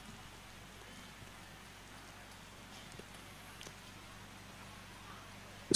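Steady, faint rain falls at night during a prayer gathering, a soft continuous patter with no voices.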